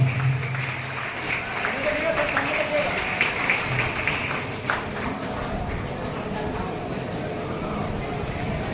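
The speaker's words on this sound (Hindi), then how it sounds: "जोरदार ताली बजनी चाहिए।" Loud applause fills the hall at the Bihar Ratna award ceremony for Bihar Diwas, a dense steady clapping crowd that continues under someone speaking.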